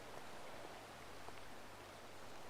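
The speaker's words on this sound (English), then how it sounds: "So you can sit there in the rain." Steady rain in the video game GTA 5, a faint, even hiss of falling drops with occasional soft patters and no voices.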